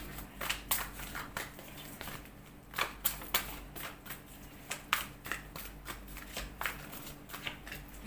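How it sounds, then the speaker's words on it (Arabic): Tarot cards being shuffled and dealt out for a reading: close, crisp flicks and slaps of card stock in an uneven rhythm over a faint steady hum. "يلا نسمي بدايه نبدا نوزع كروت."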